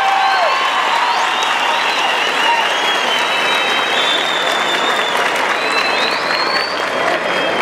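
Loud, continuous crowd applause at a bull tournament in Tamazulapan, thick clapping mixed with scattered cheers and whistles filling the whole stretch.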